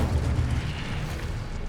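A whooshing, roaring burst of flame from an Incendio fire spell cast in Hogwarts Legacy, a broad, loud rumble that holds steady for under two seconds.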